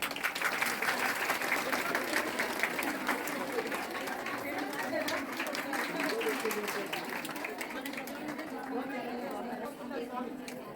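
Clapping from a crowd at a temple gathering for Simhachalam Appanna Swamy on Jyeshtha Purnima, steady and dense for about ten seconds, with murmured chatter mixed through it.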